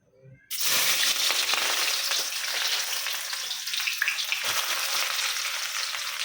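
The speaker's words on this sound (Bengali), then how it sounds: "এই পেঁয়াজ কুচিগুলো আমি একটু কী বলে বাদামি কালার করে ভেজে নেব" Chopped onions hitting hot oil in a pan and frying to brown, bursting into a loud close sizzle after a brief quiet start and hissing steadily with faint stirring.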